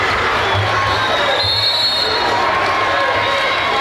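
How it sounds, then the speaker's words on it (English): A basketball crowd in a gym roars and cheers steadily, a loud, dense wash of voices and shouting that continues throughout without letup. "the Greenville crowd is excited. They are really cheering on that far side."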